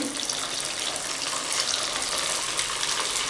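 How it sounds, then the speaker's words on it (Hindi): Leftover rice balls fry in hot oil over a low to medium flame, giving a dense, steady, fairly loud hiss that stays even throughout without pauses. "तेल को हमें गरम करना है लो टू मीडियम फ्लेम पे, और अब मैं इसमें डाल दूंगी इस चावल के बॉल्स को"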